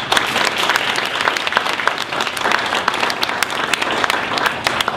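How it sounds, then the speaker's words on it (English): Audience applause for a speaker at a WordPress meetup talk, a dense, steady burst of many hands clapping throughout, loud and close with no talk over it. "please, a quick round of applause for Ross"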